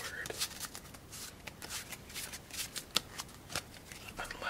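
A deck of playing cards is shuffled softly and up close, giving crisp riffling bursts and flicks in quick succession, quiet and intimate.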